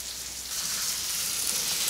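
Blue corn crusted fish frying in hot oil in a pan, a steady close crackling sizzle that holds evenly throughout with no talking.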